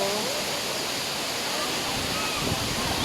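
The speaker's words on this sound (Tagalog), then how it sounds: "Sobrang ganda ng falls dito kasi ang lakas." Powerful waterfall at Dampalit Falls roaring as a steady, dense wash of rushing water, loud and continuous throughout with no breaks.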